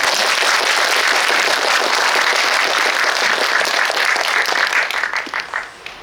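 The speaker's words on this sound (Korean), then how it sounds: "와닿으셨다면 큰 박수로." Audience applause at a Korean film screening's guest talk, a loud, dense, steady wash of clapping from a full hall that tapers off near the end.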